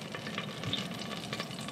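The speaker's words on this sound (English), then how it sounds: "our oil is making a little bit of noise." Cooking oil sizzles in a pan with a soft, constant crackle and spatter, faint and steady throughout, popping from a little leftover moisture while vegan soup is being prepared.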